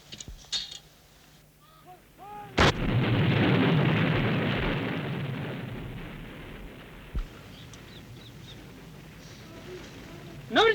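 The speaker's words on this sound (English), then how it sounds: "the guns were prepared for firing" A single sharp artillery blast from the 1971 Indo-Pakistani War booms, followed by a long rolling rumble that slowly fades, with someone narrating over parts of it.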